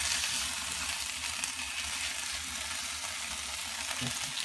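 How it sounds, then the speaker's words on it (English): Fish fillets sizzle steadily in a frying pan, a close, even crackle throughout, with a faint low knock near the end. "You can hear that nice sizzle."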